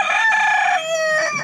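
A single loud, close crow from a black Ayam Cemani rooster, one drawn-out cock-a-doodle-doo lasting about a second and a half.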